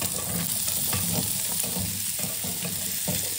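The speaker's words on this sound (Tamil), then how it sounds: "இப்போ கட் பண்ணி வச்சுக்க பரங்கிக்காயெல்லாம் போட்டுக்கலாம்" Pumpkin pieces stir-fry in a pan for a poriyal, a dense continuous sizzle with rhythmic stirring scrapes close up, no talk.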